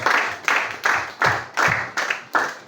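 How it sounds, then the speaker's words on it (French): A church congregation at a Sunday school session applauds in unison for a young sister, rhythmic loud group claps in about seven evenly spaced beats, each a crisp thud, close and with no talking over them. "On acclame très fort pour la soeur"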